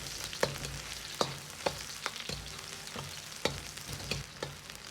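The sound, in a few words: stir-frying ginger and scallions in mutton fat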